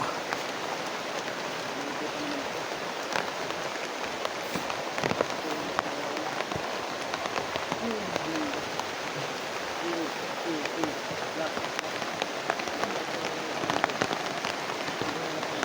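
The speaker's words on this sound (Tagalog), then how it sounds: "Lakas na yung ulan." Heavy rain pours steadily onto surfaces outdoors, a dense continuous patter with scattered nearer drips and taps, while people speak occasionally beneath it.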